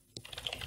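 Quick, faint clicks of typing on a computer keyboard start after a short silence and continue in an uneven burst of close keystrokes.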